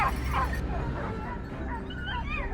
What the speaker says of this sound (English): Alarm barks echoed through the air, and Thomas and his team immediately braced